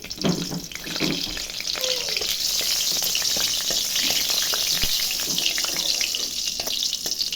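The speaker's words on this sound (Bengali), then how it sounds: "দেখো কড়াই একটু তেল দিয়ে দিলাম, একটা শুকনো লঙ্কা ফোড়ন দিচ্ছি।" Dried red chili tempers in a little oil in a wok, a close, steady sizzle and crackle continuing throughout with occasional stirring sounds.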